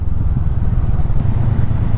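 A Honda CMX500 motorcycle engine, a parallel twin shared with the CB500X, runs while being ridden, giving a loud, close, steady low throb with a slightly vibey pulse and no talking.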